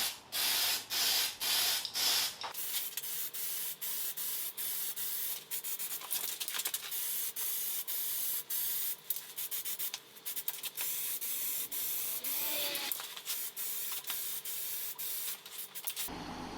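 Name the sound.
spray painting a Toyota 4A-G engine head cover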